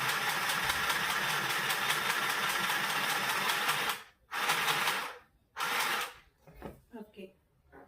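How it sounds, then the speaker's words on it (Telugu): A mini sewing machine switched on and stitching fabric, a steady dense mechanical whir running loud for about four seconds, then stopping and restarting in short bursts with brief gaps between. "సో ఇప్పుడు నేను మీ ముందే కుట్టి చూపిస్తాను. స్విచ్ వేస్తున్నాను."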